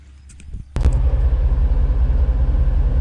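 An LS3-swapped Scout 800 truck starts off with a quiet idle that breaks into a loud, deep, steady engine rumble, close and continuous as the ride begins.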